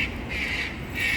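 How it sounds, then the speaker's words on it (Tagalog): A loud bird squawks repeatedly close by, harsh calls rising in bursts over steady background noise at an outdoor site during preventive maintenance work in Australia. "Napakaingay nung ibon na yun,"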